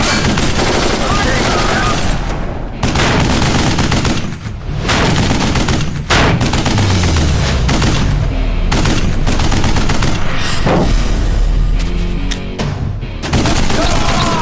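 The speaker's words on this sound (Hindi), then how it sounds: "किसी को कुछ समझ में आया कि इसको लगने वाली गोलियां कहाँ जा रही हैं" Gunfire in a Bhojpuri film action scene: loud, dense bursts of shots and booms crackle in rapid volleys, separated by brief gaps, with background music and sound effects running throughout.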